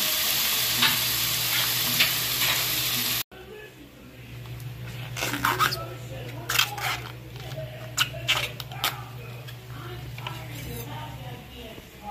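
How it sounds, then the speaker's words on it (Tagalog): Sliced pork sautés in a pan for Filipino sinigang, a steady sizzle running underneath while a spatula scrapes and stirs in scattered clinks, a voice speaking now and then. "Hayaan natin mag-gisa dyan at magkaroon ng kunting kulay."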